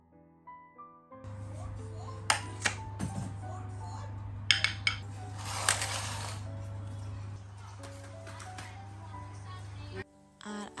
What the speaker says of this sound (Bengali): আর এদিকে লেবুর শরবতও করা হচ্ছে।